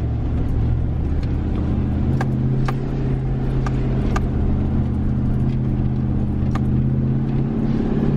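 A vehicle climbs a very steep trail near Snoopers Rock, its engine droning steadily with a low, constant hum, a few faint knocks and rattles over it and no talking.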